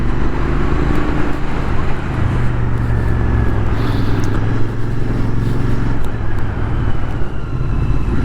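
A Royal Enfield Interceptor motorcycle is ridden along a road, giving a steady close engine drone with wind and road noise for the whole stretch. No one speaks.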